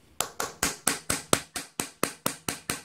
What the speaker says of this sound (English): all we need to do is tap that adjust around there with a punch